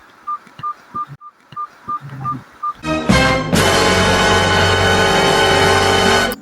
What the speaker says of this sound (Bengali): দেখি ফোন দিয়ে দেখি